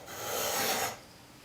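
A freshly sharpened spokeshave takes a single rasping stroke across wooden end grain, a close, dry scraping swell of under a second that cuts off cleanly into quiet.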